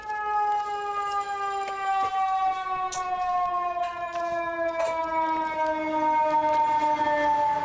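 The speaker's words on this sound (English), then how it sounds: "Sorry for the sirens." Emergency vehicle sirens wailing loudly and steadily in the background during a Soulframe gaming session, long sustained tones drifting slowly in pitch throughout.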